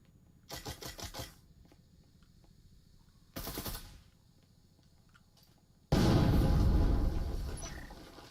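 Gunfire rings out during a Breachers VR competitive match: a short rapid burst, a second burst a few seconds later, then a loud sustained barrage that slowly fades, with near-silence between.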